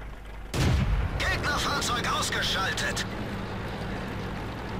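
A Pz.Sfl.IVc tank destroyer's gun fires in World of Tanks: one loud, sharp blast with a booming tail, followed by a string of quieter crackling impacts and distant rumble under the engine drone.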